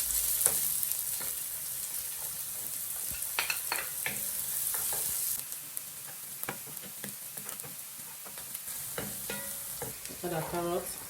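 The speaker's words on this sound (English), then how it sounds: "pour in our diced onions" Oil sizzles and crackles steadily as chopped onions fry in a pan, with occasional stirring scrapes over the continuous hiss.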